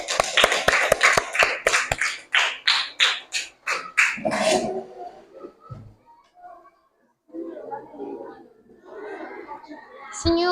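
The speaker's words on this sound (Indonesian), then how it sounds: "Beri tepuk tangan untuk kelompok waktu." A classroom of children claps for a student group in a rhythmic patterned clap, a quick series of sharp slaps speeding up then in measured beats, followed by quieter talk and children's voices.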